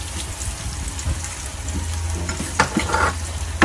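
Garlic frying in a pan for Bicol Express gives a steady low crackle and sizzle, with a few clinks from a ladle near the end, close and without talk.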